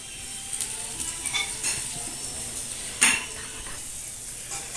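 Two dried red chilies, split in half, fry in hot oil in a pan for a village-style greens dish, a steady sizzle broken by a few scraping stirs and a sharp utensil clink near the pan.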